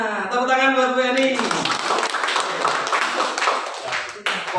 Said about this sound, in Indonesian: tepuk tangan buat Bu Yani